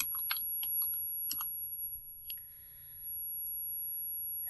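Faint, quick clicks of keys being typed on a computer keyboard, a short burst of taps in a quiet room, no voice.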